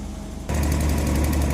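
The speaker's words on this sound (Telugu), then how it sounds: "దీంతో ఇంజిన్ వేయాలి ఇది డీజిల్ క్యాను" A diesel engine on a 2588 water tanker kicks in abruptly after a brief quiet stretch, then runs at a steady, close, throbbing idle.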